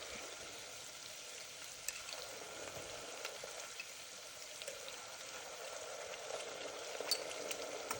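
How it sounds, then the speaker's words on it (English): Sliced onions and ginger garlic paste fry in a hot pan for a pulao, a soft, steady sizzle with occasional faint pops and stirring scrapes. It stays fairly quiet with no talking. "Once the onions are starting to become brown, they are roasting really well, I will add about 2 tablespoons of ginger garlic paste."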